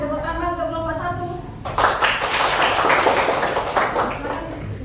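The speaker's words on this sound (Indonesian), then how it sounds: "beri tepuk tangan untuk kelompok 1" A voice speaks briefly, then a group bursts into close, lively hand clapping that continues fairly loudly to the end.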